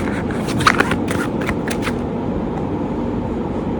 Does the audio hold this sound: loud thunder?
no